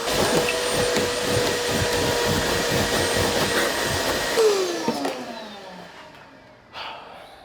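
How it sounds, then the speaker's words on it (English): A shop vac cleans the filthy carpeted interior of a Fox Body Mustang, whining steadily at close range before the motor cuts off and spins down, with a short knock near the end. "All that disgusting crap is vacuumed out of the inside."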